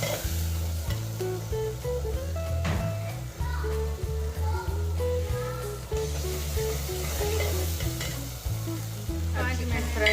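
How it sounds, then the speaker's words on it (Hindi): Potato chicken curry with spices and turmeric fries and is stirred in a pan, giving a loud continuous sizzle with scraping stirs, all under melodic background music. "फ्राई करेंगे अच्छी तरह।"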